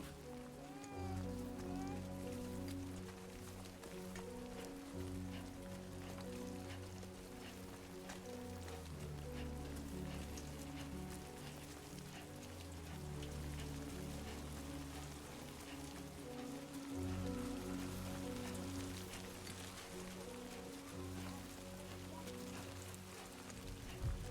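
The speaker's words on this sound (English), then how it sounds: "Uh-oh. Great. Rain." Steady rainfall in the video game Death Stranding 2 patters on surfaces throughout, a constant dense hiss of drops layered over low ambient game music.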